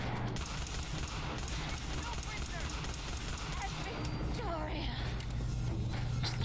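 Gunfire in the modded video game Fallout 4 during an attack on the Brotherhood of Steel: rapid, dense shots crackle steadily throughout, with voices faintly underneath.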